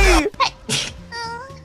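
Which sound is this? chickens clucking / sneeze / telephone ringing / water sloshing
sneeze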